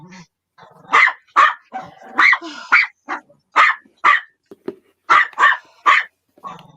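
A dog barks loudly and close by, giving about a dozen sharp barks in uneven clusters with short quiet gaps between them and no talking.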